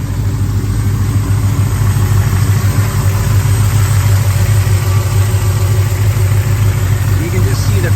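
A 1970 Chevrolet Chevelle Super Sport engine idles with a deep, steady rumble, loud and close, running evenly throughout with no revving.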